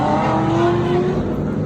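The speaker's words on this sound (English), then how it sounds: "Woo, you hear them engines, you guys." Idling and revving car engines at an outdoor car meet where a Buick LeSabre is parked, a steady loud rumble with a rising engine tone in the middle and no voices.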